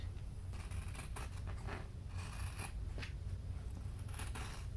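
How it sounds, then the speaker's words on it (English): Scissors snip through fabric in a series of soft, crisp cuts at close range, each snip a brief rustling scrape over a low steady room hum, with no talking. "we will cut the fabric just"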